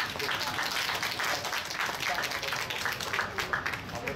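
Crowd applause for elderly participants at the opening ceremony of a senior fitness club in Kaohsiung, steady dense clapping throughout, with a voice talking over it.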